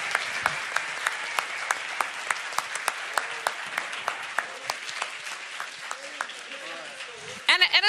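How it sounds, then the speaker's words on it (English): Sparse, evenly spaced hand claps from an audience after a debate on Bitcoin versus gold, fairly faint, with murmured voices beneath and a speaker starting to talk at the very end. "A round of applause for our team."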